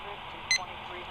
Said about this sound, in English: It beeps, but doesn't scan.